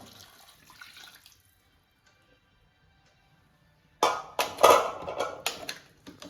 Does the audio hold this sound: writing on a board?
no